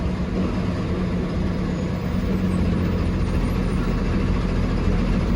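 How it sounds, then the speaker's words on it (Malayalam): A bus jolts along a badly potholed road, its engine and rattling body producing a steady, loud rumble that continues without pause throughout. "റോഡ് മുഴുവൻ ഗട്ടറുകളാണ് വണ്ടി ചാടി ചാടി ചാടിയിട്ടാണ് പോയിക്കൊണ്ടിരിക്കുന്നത്"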